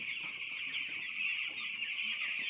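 Chickens in a poultry farm shed, young growing birds, giving a steady dense chorus of high calls and clucks that fills the space throughout, with no talk over it.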